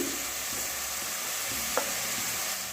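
Cut cucumber and potato pieces hit hot mustard oil in a pan, giving a steady bright sizzle with small crackles and one sharp clink near the end, close and alone with no talk.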